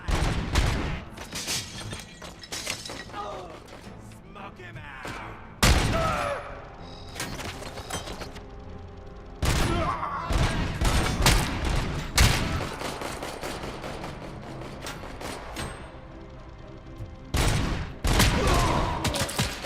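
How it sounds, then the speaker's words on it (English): AK-47 gunfire in RoboCop: Rogue City, sharp bursts of shots and impacts arriving in clusters every few seconds, loud against a constant layer of combat noise and clatter. "That guy's got an AK-47."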